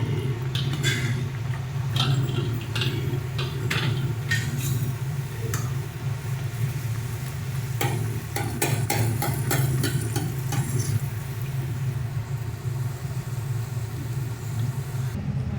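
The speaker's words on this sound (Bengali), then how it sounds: "এরকমভাবে এক এক করে আমরা সমস্ত পুরিগুলোকে ভেজে নেব" Hing kachori puris deep-frying one after another in hot oil, a steady dense sizzle with bursts of crackle and the scrape of stirring, close and continuous with no talk.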